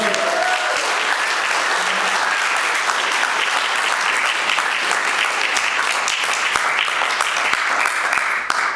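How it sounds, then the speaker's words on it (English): A memorial concert audience bursts into sustained, dense applause that stays loud and steady for about nine seconds before ending abruptly, with no talking over it. "How about an insanely warm round of applause?"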